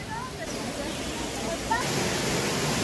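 Rushing water at Düden Waterfall in Antalya, Turkey, a steady broadband roar that fills the whole clip, close and constant under faint background voices.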